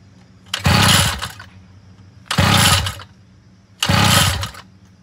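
A small motorized bicycle engine is pull-started three times in a row, each pull bringing a short loud burst of raspy sputtering and throttle revving that dies back to quiet between attempts.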